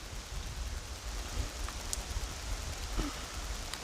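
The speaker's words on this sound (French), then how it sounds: "Voilà, il pleut bien." Steady heavy rain in the Auvergne countryside with thunder on the way, a dense, even hiss of drops hitting the ground throughout, close and continuous with no voices.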